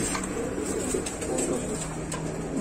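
Racing pigeons, including a black checker cock, coo softly and repeatedly inside a pigeon shop, a low continuous burble under faint background chatter.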